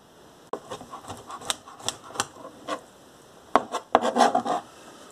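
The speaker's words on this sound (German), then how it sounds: "Dann braucht er noch dafür 4 Stück getrocknete Feigen. Die schneide ich klein." A knife chops four dried figs into small pieces on a board: a loose run of sharp, close taps, sparse at first and then quicker and denser toward the end.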